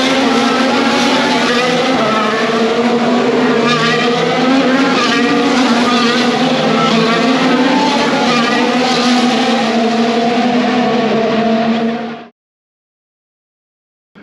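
Race cars or karts in Monaco roar past with a loud, sustained engine drone that holds steady for about twelve seconds before cutting off abruptly into silence.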